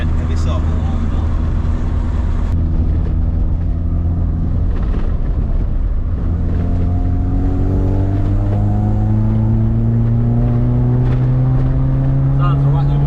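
A Ford car engine runs loud and close with a raspy tone, idling briefly and then revving so its pitch climbs and holds. Voices are heard under the engine noise.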